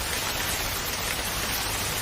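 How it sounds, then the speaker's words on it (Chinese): Steady rain falls at a constant hiss, with a dense patter of drops on surfaces and no voices over it. "哎呀，下雨了，怎么办？"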